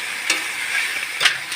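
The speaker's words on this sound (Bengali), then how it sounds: "ভাজা হয়ে গেলে এবার পরিমাণ মতন জল দিয়ে দিতে হবে।" Water hits a hot pan of frying potatoes and Malabar spinach, and a loud, dense hiss of sizzling carries on throughout. A few stirring scrapes rise above it, close up and with no talk.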